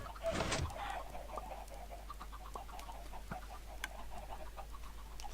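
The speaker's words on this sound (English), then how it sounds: "One thing I think you hear the most in this base is the sound of chickens slowly dying in lava." In Minecraft, a chicken burning in lava gives a short, loud hurt cluck near the start, followed by faint scattered clicks and pops over a low steady hum.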